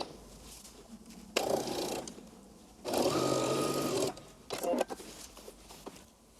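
A sewing machine stitches lining to a skirt piece at the waist in several loud, even bursts of rapid mechanical whirring, separated by quieter pauses and short stops.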